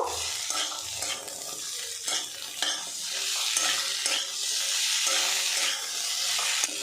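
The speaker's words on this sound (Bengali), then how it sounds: "আদা রসুন দিয়েছি আরও কিছুক্ষণ নাড়াচাড়া করে ভাজা ভাজা করে নেব" Beans fry with ginger garlic paste in a pan, a constant close sizzle broken by repeated scraping stirs at a steady pace.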